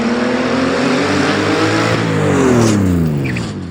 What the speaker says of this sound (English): days of work later, we finally started the car up